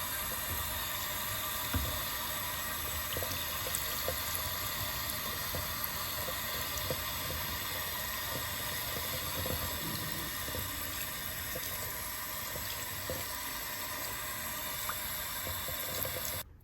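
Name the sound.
washing a stencil under running tap water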